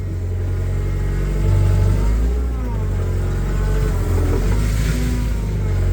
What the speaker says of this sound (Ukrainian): І я натискаю тягу, і тільки після цього навантажувач їде вперед.